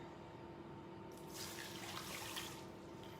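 Water runs briefly from a tap into a rice steamer holding basmati rice, a steady splashing rush that starts partway through and stops after a couple of seconds over a low room hum.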